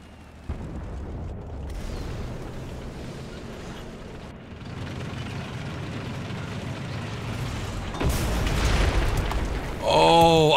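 An ATGM missile detonates in the tank game War Thunder, a sudden heavy boom late in the stretch after a rumbling engine-and-battlefield bed, fairly close and loud, with brief talk nearby.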